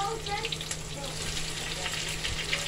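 Food frying in hot grease at the stove, a steady bubbling sizzle with small crackles running throughout, fairly quiet and continuous.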